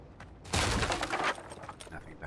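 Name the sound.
shooting at boxes, video game Avowed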